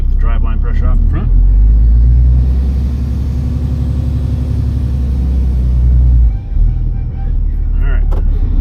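A pickup truck idles and reverses a short way before towing a CAT 305.5e2 excavator, a steady low engine rumble running throughout with a brief dip near the end, and a voice speaking over it at the start and finish.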